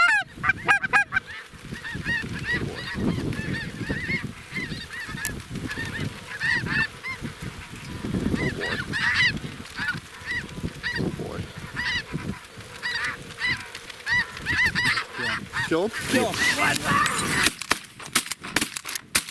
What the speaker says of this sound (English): Definitely got to adjust to shooting snow geese.